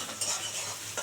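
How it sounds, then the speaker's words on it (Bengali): Onions fry in reused oil for a fish-roe and Malabar spinach chorchori, a soft close sizzle with two quick scraping stirs of a spatula. "এবার পেঁয়াজটা ভাজা হোক, আর তেল দিতে হবে না, এই তেলেই করে হয়ে যাবে।"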